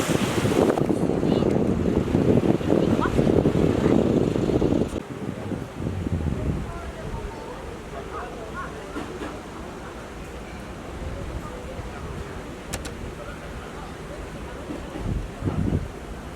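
Sea waves wash along the coast at Punta Prima on the Costa Blanca, with strong wind buffeting the microphone at first, then a steady, softer surf hiss with occasional faint noises.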